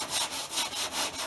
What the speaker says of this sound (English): leaving the formula on, we're just going to sand this down, and it'll come off fairly easy